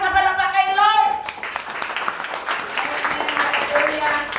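A church congregation at a New Year's Eve service breaks into loud clapping and cheering after a brief sung or spoken line, and the dense applause carries on steadily to the end with voices mixed in.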